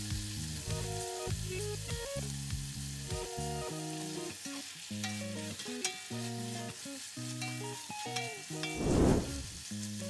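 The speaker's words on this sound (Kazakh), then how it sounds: "Пиязымыз қызарып қуырылғаннан кейін үстіне алдын ала маринадталған етімізді саламыз" Pre-marinated meat hits a pan of browned fried onions for a home-cooked sirne, giving a loud, close sizzle with crackling and stirring that surges near the end, no talking.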